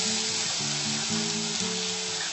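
Onion frying in oil in a pan while cooking party fondue chicken, a steady close sizzle with a low hum running beneath it throughout.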